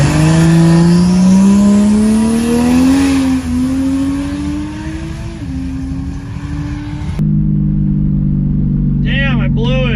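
A race car with a transbrake fault launching in a cash drag race, its loud engine climbing in pitch as it accelerates hard, then dropping to a lower steady drone, with voices over the roar.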